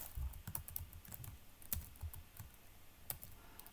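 Typing on a computer keyboard during Linux C/C++ development setup, with close, irregular clicks and a few sharper keystrokes in quick, uneven bursts and no talking.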